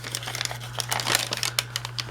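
Crinkly coffee-dyed paper for a junk journal is handled and shuffled close by, giving a steady run of dry crackles and rustles with no voice over it.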